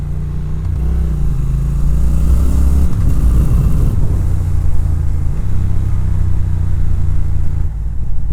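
A custom Triumph Speed Twin motorcycle rumbles along under way, its engine note steady and loud with a brief rise in revs early on, then settling into a continuous close drone.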